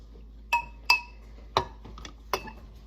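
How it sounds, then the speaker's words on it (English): Several sharp glassy clinks, about four spaced taps, like a utensil striking the side of a glass container while stirring, fairly close. "And then you stir this up a little bit."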